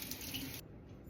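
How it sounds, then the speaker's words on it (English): Fresh rosemary herbs rinsed under cool running tap water, a brief close hiss of flowing water that cuts off abruptly partway through, with no talking. "we're just going to rinse them in cool water."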